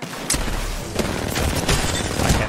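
Rapid bursts of gunfire from an online shooter game run continuously in dense, crackling volleys, heavy at the low end, with overlapping shots throughout.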